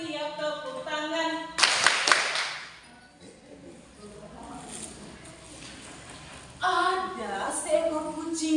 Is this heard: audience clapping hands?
yes